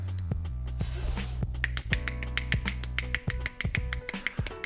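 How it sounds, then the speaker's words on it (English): Sharp finger snaps crack out repeatedly in an uneven series over a low steady hum, faint and somewhat distant, with no talking. "I can clearly hear snaps are happening"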